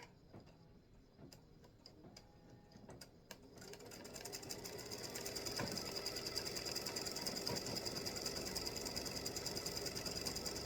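An embroidery sewing machine stitches the loop of a freestanding lace earring or gift-tag pendant. A few faint ticks lead into a steady, fast mechanical stitching rattle that grows louder and then holds, with no talk.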